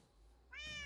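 A black cat in Minecraft gives one short, clear meow near the end, close and fairly loud against a quiet background.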